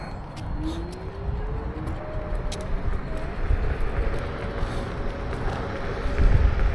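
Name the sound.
Kaabo Warrior X Plus electric scooter accelerating, single motor, second gear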